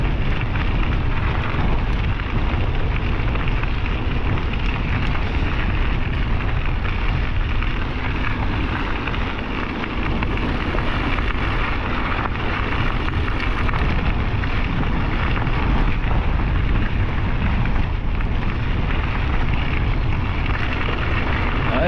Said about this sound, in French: Voilà, je l'ai de face le vent.